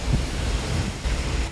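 Ocean waves wash in at a beach as a continuous broad rush of surf, loud and close, with wind buffeting the microphone.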